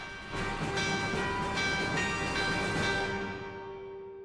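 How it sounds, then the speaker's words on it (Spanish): Tolling alarm bells in the finale of a Shostakovich symphony ring over a full orchestra, sustained and resonant, with repeated strokes blending into a loud wash that decays into a long fading tail. "las campanas sonando una y otra vez como señal de alarma"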